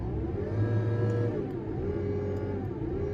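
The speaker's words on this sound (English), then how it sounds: "it automatically revs your machine up for you" Engine of an 822D track cutter revving itself up automatically, a steady mid-pitched mechanical drone with a slight rise in tone, heard alone at moderate loudness.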